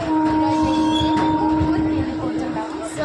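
The steady rumble and rattle of a moving train heard from inside a carriage, with a constant mechanical hum and faint clanks throughout.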